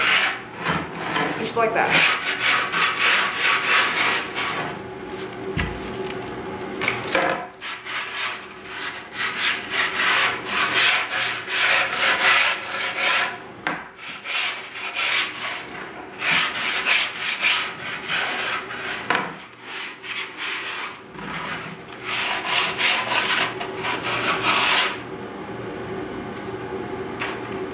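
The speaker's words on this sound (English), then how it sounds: "you're going to rub it kind of on the board to kind of smooth out the edges so they stick better." Grip tape rubbed along the edges of a skateboard deck, making a loud, continuous rasping scrape in long repeated strokes, close by, with a brief spoken comment near the end.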